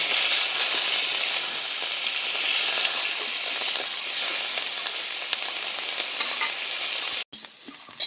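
Cauliflower florets fry in hot oil with a loud, close, continuous sizzle that holds steady for several seconds before cutting off abruptly, then a quieter hiss follows.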